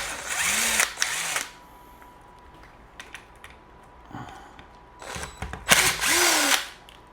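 A power tool drives out 8 mm corner bolts on a Hiblow HP-40 air pump, two loud whirring bursts with quiet handling and clicks between them.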